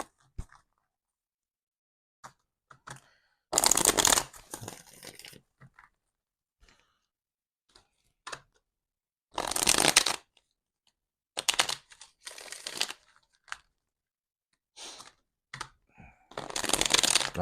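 Several bursts of tarot cards being riffled and shuffled, close and crisp, separated by quiet pauses and small handling taps.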